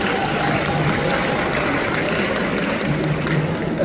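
An audience claps steadily for a guest at a Pictasia 2024 convention Q&A session, a dense continuous patter of hands filling the hall throughout at even loudness.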